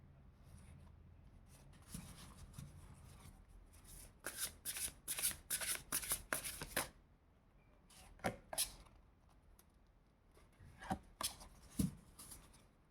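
Tarot cards being shuffled by hand in bursts of crisp riffling and flicking, separated by quiet pauses, close and fairly soft.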